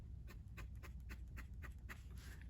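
A Platinum Curidas fountain pen's fairly dry nib scratches softly across paper with audible feedback in short, repeated strokes, faint and close against a low background hum.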